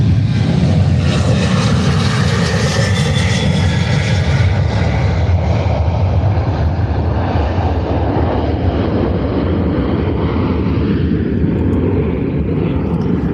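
A Ryanair airliner roars steadily at Faro airport, a loud, broad engine rumble that holds strong and then slowly eases as it passes, with no talking.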